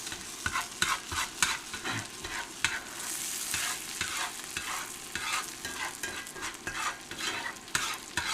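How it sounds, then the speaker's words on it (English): Butter sizzles and spatters in a hot pan on an induction burner as food is basted, with scraping and clinking of a spoon in steady bursts. "Here I'm just kind of basting it with that buttery goodness."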